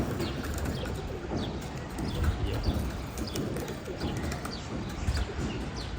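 Three pigeons, two males and a female, coo softly and repeatedly over a steady noisy background, close but not loud.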